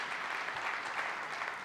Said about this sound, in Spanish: Este aplauso es para ti también.